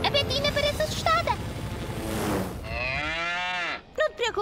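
A cartoon cow gives a long, loud moo at close range, following a gust of rushing wind and a cartoon voice speaking briefly before it.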